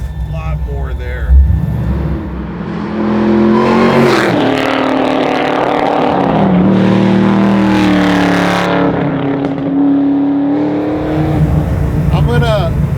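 A 750-horsepower 1969 Chevy Camaro engine revs and accelerates loudly from inside the car, its roar climbing in pitch through gear changes, while people talk over it.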